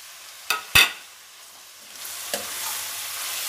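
Two sharp clatters, then cabbage and mixed vegetables hit a hot pan and stir-fry over high heat, the sizzle swelling into a steady loud hiss.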